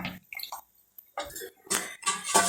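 Water is poured into a pot of taro root sambar in a home kitchen, coming in several separate splashing gushes with brief gaps, close and fairly loud.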